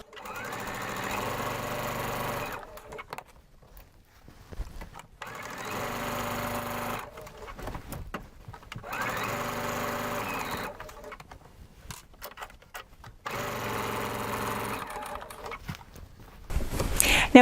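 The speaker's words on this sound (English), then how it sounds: "all I need to do is just sew up to that corner." A sewing machine stitches binding onto a quilt edge up to the corner, running in four long steady bursts separated by short pauses, close and fairly loud, with no talking.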